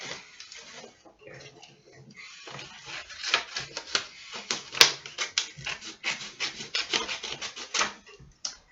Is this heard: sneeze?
no